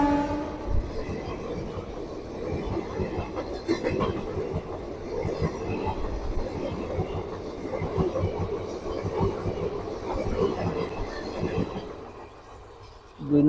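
A train rolls along a railway line beside station tracks under stone-laying work at Berhampore Court station, a continuous rumbling, clattering passage at moderate distance that fades toward the end.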